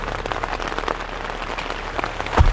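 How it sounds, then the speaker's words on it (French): Rain falls steadily at night in a forest, pattering densely and close around the listener with irregular drips and taps throughout. "J'ai le cul sous la pluie là."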